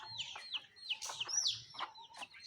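Farm chickens cluck nearby in short, repeated calls, with several birds overlapping in an uneven rhythm; no talk is heard.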